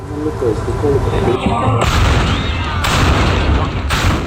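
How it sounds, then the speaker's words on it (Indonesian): Carbide cannons fire together during an Eid night celebration in Pontianak, booming loud, deep and layered in a dense barrage with little pause. "Dentuman meriam karbit yang dibunyikan secara serentak memecah kesunyian kota Pontianak"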